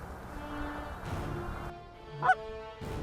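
Geese honk a few times at moderate distance, one sharp loud honk standing out against a quiet outdoor background.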